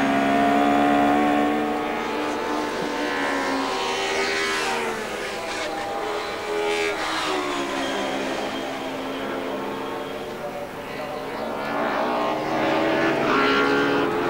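Mercedes 190 DTM race car from 1993 accelerating uphill on the Nordschleife, a loud, steady high-revving engine roar with rising pitch sweeps throughout, with a commentator's voice faintly over it.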